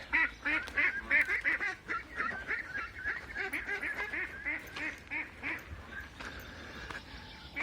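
Young ducks peep and quack in a busy, continuous chorus of short repeated calls, fairly close, with no talking.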